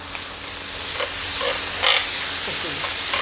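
Food fries loudly in oil with oyster sauce added, a dense continuous sizzle with crackling pops and spatter plus a few stirring scrapes.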